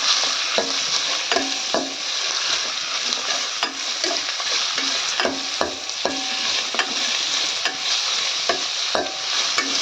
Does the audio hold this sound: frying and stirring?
yes